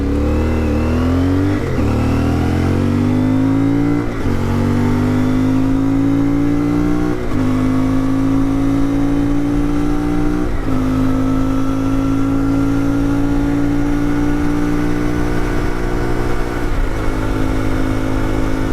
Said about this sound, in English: full acceleration from zero here